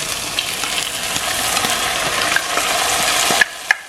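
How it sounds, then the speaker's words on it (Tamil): Onions saute in hot oil while being stirred for a sundakkai (turkey berry) curry, a continuous close sizzle with scraping stir strokes and two sharp clinks of the utensil near the end. "இந்த வெங்காயம் நல்லா கோல்டன் ப்ரௌன் வரையும் இதை வதக்கிடுங்க"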